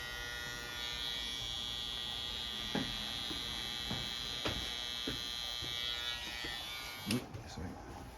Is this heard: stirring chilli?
no